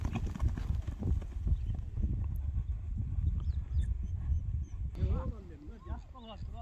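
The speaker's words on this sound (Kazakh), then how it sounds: "Экинчи атты тартып көрсөтүп берели тугандар." A horse is led along, its hooves clip-clopping in a loud, close, steady rhythm while someone talks over the steps throughout.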